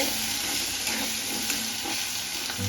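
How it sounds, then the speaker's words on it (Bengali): Potato pieces fry with turmeric in a pan, giving a dense, even sizzle that runs without a break. It is close and fairly quiet, with faint stirring and no voices. "আলুটা একটু লাল লাল করে ভেজে নেব"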